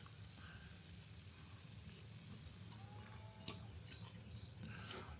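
Steady sizzling and bubbling of food cooking in a pan, a continuous low crackle with a few faint clinks, no voices.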